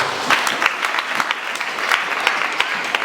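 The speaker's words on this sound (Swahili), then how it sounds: "Tupige makofi Mungu wetu." A church congregation at a main Sunday service claps together in a short burst of steady, fairly loud applause that fills the room, with no one speaking over it.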